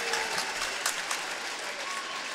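Badminton spectators applaud at the 2011 BWF World Championships men's singles semifinal, a steady patter of many hands clapping at moderate distance, dense and even throughout.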